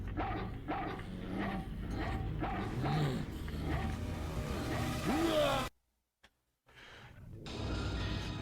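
Dog from the video game Haunting Ground: repeated barks and yips over game sound and music, with a brief drop into silence near the end before the sound resumes.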